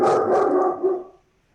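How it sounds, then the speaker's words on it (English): A 10-month-old puppy barks a few quick, loud yips close by during a town board meeting, then the sound cuts off into silence. "I apologize for my 10-month-old puppy, who is usually pretty good, but right now he wants to say hello."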